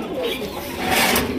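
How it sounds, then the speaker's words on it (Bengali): Pigeons coo softly in the background at a pigeon farm while a person talks over them. "দেখেন কোয়ালিটি সম্পন্ন কবুতর।"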